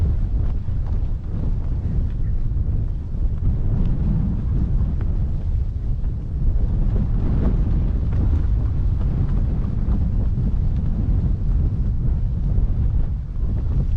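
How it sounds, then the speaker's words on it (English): Strong morning wind at sunrise buffets the microphone in a constant low roar, loud and unbroken throughout with no voices. "I suppose you can hear the wind is pretty strong this morning."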